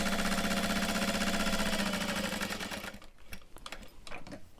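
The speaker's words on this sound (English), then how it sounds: "I'm going to fold this and top stitch the open edge first" A sewing machine top stitching along the edge of a bag, running in a fast, steady mechanical whir for about three seconds before it stops, followed by a few light clicks and handling noises.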